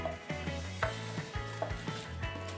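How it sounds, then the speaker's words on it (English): Caramel-coated popcorn is stirred and tossed in a pot, with a quick sequence of scraping and rustling strokes close up and no voices. "we're gonna like mix that popcorn around"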